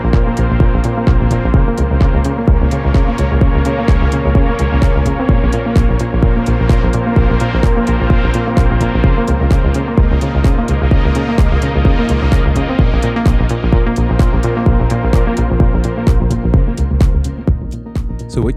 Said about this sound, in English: So what you're hearing now is the Prophet 6 from Sequential, which is being triggered by the Torso T1.